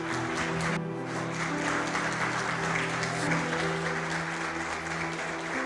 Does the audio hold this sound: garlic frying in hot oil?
no